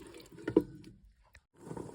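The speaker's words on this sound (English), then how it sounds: "I'm just giving it a stir" Garlic, ginger and a tin of reduced-fat coconut milk stirred in a Ninja Foodi pot, a few brief wet sloshing strokes, close and fairly quiet, with a short pause between them.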